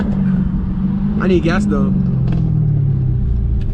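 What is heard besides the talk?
730whp Dodge SRT Hellcat exhaust rumble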